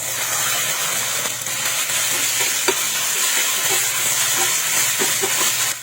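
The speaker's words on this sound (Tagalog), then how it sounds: "At saka ko na nilagay yung marinated chicken." Marinated chicken sautés over high heat with garlic, onion, ginger and green onion roots, giving a steady, close sizzle with occasional scraping and clicks from stirring.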